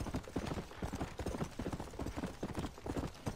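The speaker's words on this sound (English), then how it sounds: "There's another horse of the apocalypse down here." Horse hooves clip-clop in a steady, fast rhythm across the whole stretch in the Red Dead Redemption Undead Nightmare video game, close and continuous with no voices over it.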